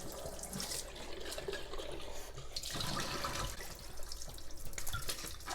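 Tap water runs and splashes steadily over sprouting seeds being rinsed in a container, a close, continuous hiss with shifting splatter and no talking.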